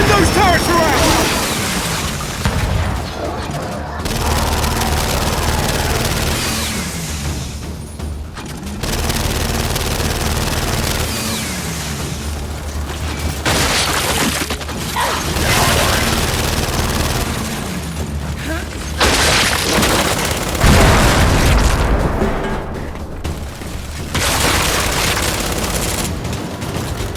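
Heavy turret gunfire and booming explosions from the Gears of War 5 video game, a loud sustained fusillade of rapid shots with blasts, broken by a few short lulls, with voices shouting over the battle.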